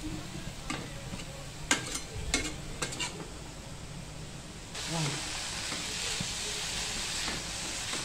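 Chopped onion is sautéed in a spoonful of oil in a pan for an eggplant bharta: a few sharp spatula scrapes and knocks, then a louder, steady sizzle carrying on to the end.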